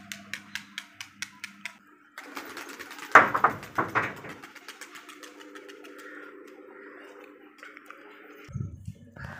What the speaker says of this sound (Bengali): আর এখানে 4টে পায়রা বসে আছে।